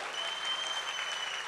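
A congregation at a church service claps loudly together, a dense, steady wash of hands held at full volume from start to finish.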